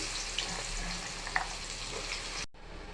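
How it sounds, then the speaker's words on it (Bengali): Chopped onions sizzle in oil left from frying fish, a close, steady hiss with a few small pops and clinks before cutting off abruptly. "মাছ ভাজা তেলে এখন পেঁয়াজ কুচিগুলো আমি দিয়ে দিলাম"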